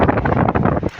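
Strong wind from a sandstorm in Saudi Arabia roars and buffets the microphone in loud, gusty surges. The sound cuts off abruptly near the end of the brief burst.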